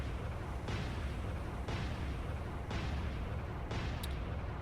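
Naval guns firing from warships in the naval combat game Cold Waters, four heavy booms spaced about a second apart over a constant low rumble, moderately distant.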